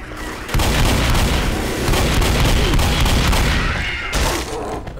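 A pipe bomb blast in Left 4 Dead, a loud booming roar that breaks in suddenly after a brief quiet start and rumbles on densely for several seconds before easing slightly, with no talking.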